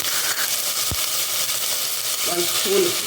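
Ginger and coriander powder fry in a pan, giving a loud, dense sizzling hiss that holds steady throughout, with one quick knock early and faint tonal clatter near the end.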